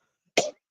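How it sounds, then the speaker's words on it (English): A single short, sharp cough, close and fairly loud, surrounded by silence. "That terrible cough came back."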